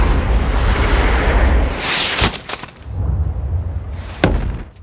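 A sniper rifle fires a single loud, sharp shot at long range, its crack followed by a heavy booming rumble and echo, with a second sharp report near the end.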